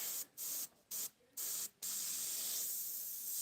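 Spray paint can hissing while painting waves and a sunset: four short bursts of hiss separated by brief pauses, then one long continuous spray, close and fairly quiet.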